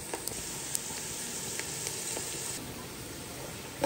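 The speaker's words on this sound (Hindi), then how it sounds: "प्याज को हम इतनी देर के लिए फ्राई करेंगे जब तक कि ये हल्का गोल्डन ब्राउन ना हो जाए" Chopped onions fry in a pan for chana pulao, giving a soft, continuous sizzle with a few light stirring ticks scattered through it, fairly quiet and steady, with no talking.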